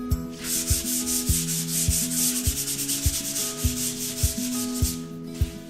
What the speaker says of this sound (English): is just sand real lightly to knock down any ridges and to blend in where the mud meets the drywall.